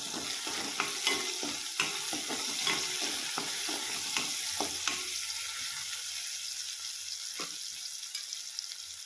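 Tomatoes hitting hot oil in a village-style Maharashtrian moong dal vegetable curry, a steady sizzle broken by repeated scraping stir strokes of a spoon against the pan, close and alone with no voices.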